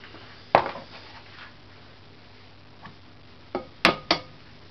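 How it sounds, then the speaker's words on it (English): Eggs cracked one after another against a bowl for a vegetarian quiche: four sharp, close taps, one early and three bunched near the end, with quiet pauses between. "I know this is going to take 4 eggs, so we're just going to crack those in"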